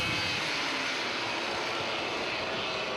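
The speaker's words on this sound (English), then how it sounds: "The number 10 kart goes through is Jake Cole, followed by the 42 of Anthony Regalo." Junior light-class racing karts pass on a circuit at the City of Adelaide Kart Titles, a continuous high-pitched buzzing engine drone held loud and steady throughout, with no speech.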